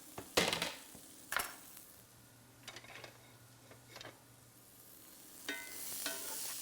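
Yellow onion sautéing in butter in a pan, with a soft, low sizzle broken by a few scattered scrapes and clinks of a stirring spoon, fairly quiet overall.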